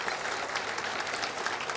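Audience applause at a Tamil comedy speech event, a dense, steady clapping from a crowd that fills the short stretch without pause.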